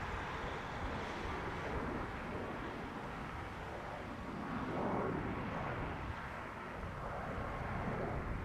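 Ryanair airliner departing or arriving at Dublin Airport from Rome Fiumicino, a steady broadband jet roar with wind buffeting on the microphone, holding loud and even for the whole stretch.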